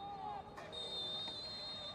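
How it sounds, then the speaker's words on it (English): A referee's full-time whistle at a professional soccer match sounds as a sustained shrill tone over stadium crowd noise, a brief blast followed by a longer one, fairly faint and distant. "there is the full-time whistle"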